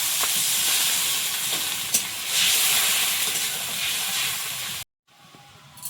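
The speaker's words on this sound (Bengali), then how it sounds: "এবার জল দিয়ে দেবো" Water poured into hot spiced tomato masala for a Bengali fish curry gives a loud, steady hissing sizzle lasting about five seconds before it cuts off abruptly.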